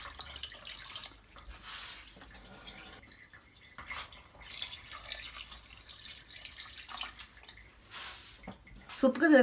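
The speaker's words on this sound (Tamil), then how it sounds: "தேவையான அளவு தண்ணி விட்டுக்கலாம்." Water poured into a pot holding chicken pieces and turmeric for chicken soup, a soft continuous splashing and trickling stream heard faintly under a voice speaking.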